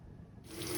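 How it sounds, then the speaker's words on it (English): A washing machine fills with water: a rushing hiss of inflowing water starts partway through and holds steady and fairly close, with no voices. "I don't know if you can hear me with the water filling up"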